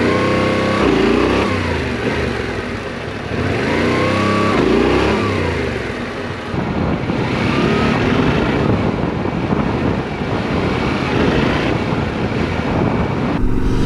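Motorcycle engine revved repeatedly during a wheelie attempt with clutch drops, loud close rising and falling bursts of throttle followed by sustained roaring acceleration with wind buffeting the microphone.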